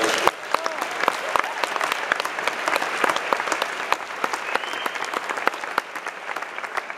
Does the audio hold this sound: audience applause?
yes